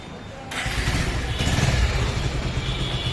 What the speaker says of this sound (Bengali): এখন আমরা গাড়ির সাউন্ডটা শুনি স্টার্ট দেওয়া।